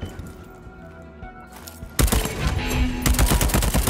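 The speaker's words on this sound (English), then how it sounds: "Whoa, somebody just shot somebody!" Gunfire in the Deathloop video game bursts in loudly halfway through, a dense rattling volley of shots following quieter game ambience.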